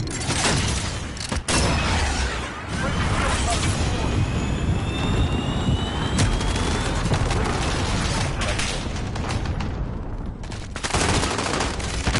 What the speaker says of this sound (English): Cruise missile, go for launch. Jaguar, missile away.